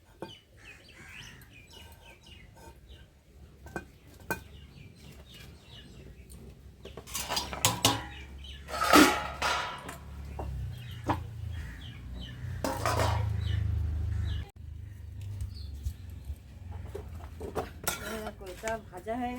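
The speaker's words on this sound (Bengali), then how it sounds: "এবার চাটুটা বসিয়ে দিই" An iron griddle is set onto a wood-fire stove with a few sharp metal clanks and pans clattering, while chickens cluck and birds chirp nearby and faint voices come and go.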